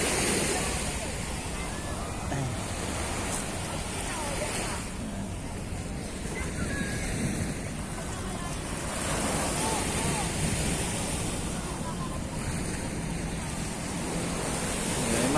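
Ocean waves washing onto Dolomite Beach under strong wind, a continuous surging roar with swelling and receding surf, heavy wind buffeting the microphone, and faint voices in the background.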